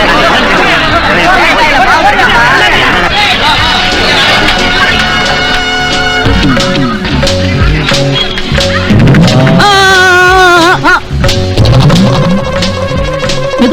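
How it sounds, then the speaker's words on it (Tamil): Loud crowd hubbub in a Tamil film scene, many overlapping voices chattering at once, dense and continuous throughout, with some music-like tones rising near the end. "ஏங்க அங்க என்ன ஒரே கூட்டமா இருக்கு?"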